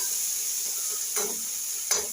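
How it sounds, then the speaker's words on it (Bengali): Fenugreek and carrot frying on high flame, with a steady hiss and two brief stirring scrapes, close and even in level, with no talking. "হাই ফ্লেম দিয়েই ভাজছি"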